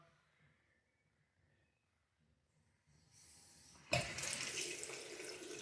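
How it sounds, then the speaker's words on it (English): Water from a newly plumbed tap in a house under renovation switches on after near silence, a sudden loud gush splashing steadily into a sink, preceded by faint breathing and movement. "Okay, put the water on."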